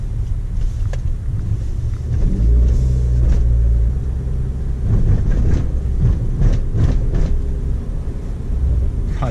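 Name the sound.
Renault Clio RS exhaust and engine rumble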